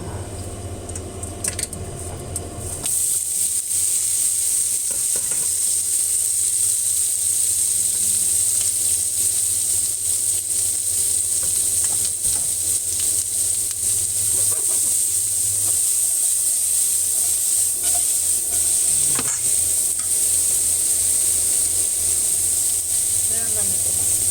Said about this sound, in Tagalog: Tapos, saka natin igigisa yung ampalaya.